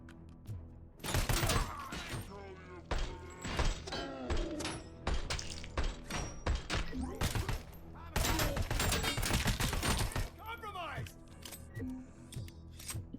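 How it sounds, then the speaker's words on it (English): Assault rifle bursts in RoboCop: Rogue City: loud, dense volleys of automatic fire in several long stretches with short gaps, mixed with mechanical clatter, while a voice talks over the shooting. "we'll stick with the assault rifle"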